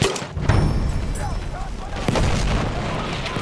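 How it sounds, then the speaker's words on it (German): A grenade goes off in Battlefield 1 on the Fort Vaux map amid other battle noise, with booms and rumbling mixed with distant gunfire and shouted voices throughout. "Granate! Ich werfe eine Granate!"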